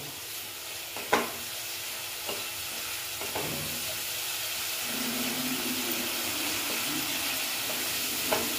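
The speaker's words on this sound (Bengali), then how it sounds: "ধনে পাতাটা আমি এখন দিয়ে একটু নেড়ে নিচ্ছি।" Coriander leaves are stirred into a simmering katla fish curry: a steady soft sizzle with a few sparse spoon clicks and scrapes against the pan, moderately close, with no talking.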